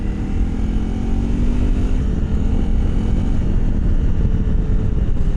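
A 2025 Honda CRF300L Rally motorcycle ridden on the move, its engine giving a steady, loud drone mixed with rushing wind noise that runs unbroken from start to finish, with no voices.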